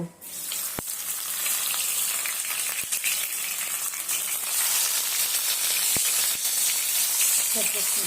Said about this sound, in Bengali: পাতার বাটাটাকে ভেজে নেব